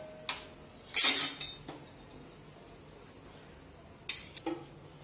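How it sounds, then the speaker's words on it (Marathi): A metal cooking pot is set down on a stove to heat for tempering a farsan amti, giving a few sharp clanks and clinks near the microphone, with brief scrapes between them and quiet gaps. "आपण आता पातेला गरम करायला ठेवूया।"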